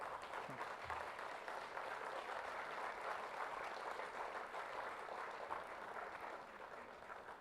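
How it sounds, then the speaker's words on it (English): Faint, steady applause from an audience at a national chartered accountants' conference continues evenly for several seconds without a break. "Can we have some applause for sir?"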